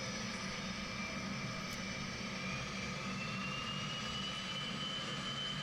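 Navy jet plane approaching to land on an aircraft carrier, its engine a steady, loud roar that holds without letup from start to finish, with no voices over it.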